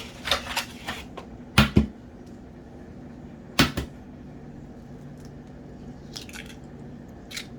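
Eggs cracked one after another into a melted, cooled brownie batter mixture for turtle cheesecake brownies: a few sharp, close taps and squishy cracks, with short splats between quieter pauses and no talking.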